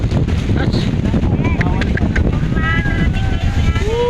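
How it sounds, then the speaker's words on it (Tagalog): Strong wind roars steadily across the microphone on a mountain, in a constant low rumble, with faint voices and whistling tones buried underneath. "Ang lakas ng hangin."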